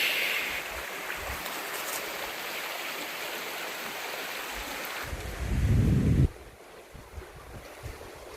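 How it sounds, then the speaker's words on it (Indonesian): Strong wind buffets the microphone outdoors as a broad, steady rush, swelling into a heavier low gust near the end before easing back; no voices are heard. "Gede anginnya"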